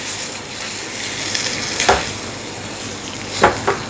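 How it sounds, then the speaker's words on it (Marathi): Grated sweet potato being stirred into hot jaggery syrup, a steady close sizzle with a few distinct scraping strokes of the spoon against the pan. "जोपर्यंत हे रताळं घट्ट होत नाही तोपर्यंत आपल्याला एकसारखं हलवत राहायचं आहे"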